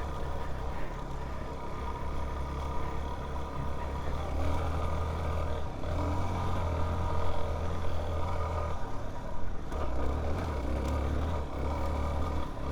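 Suzuki DR-Z4S fuel-injected motorcycle engine ridden in second gear, throttle rolled on and off, giving a steady low drone with rising and falling surges under constant wind and road noise.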